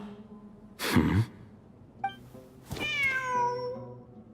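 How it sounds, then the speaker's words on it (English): A cat in the Genshin Impact video game meows, a short breathy cry followed by a longer rising and falling meow, with a brief sharp chime in between and a low game-ambience hum underneath. "The cat's showing us the way forward."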